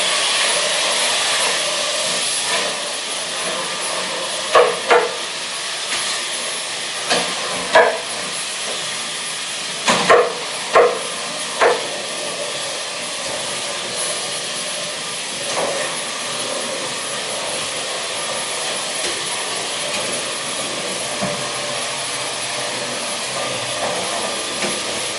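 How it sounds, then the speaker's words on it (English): A vacuum cleaner with an attachment runs in a steady whooshing drone for a light vacuuming of a desk setup, with a few brief bumps and knocks partway through. "let's use this attachment for vacuuming"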